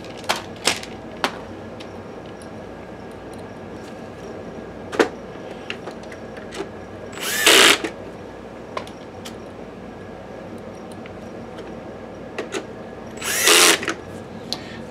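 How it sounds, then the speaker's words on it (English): A cordless drill drives screws back into an Epson Home Cinema 2150 LCD projector during a repair, with two short whirring bursts about six seconds apart between scattered clicks and taps of handling. "put screws back in now"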